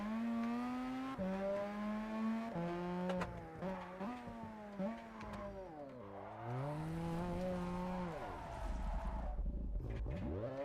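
A rotary engine revs hard on a drifting car in a racing video game, a buzzy, rising and falling whine through repeated shifts and throttle swings, ending in a low rumble with tire noise.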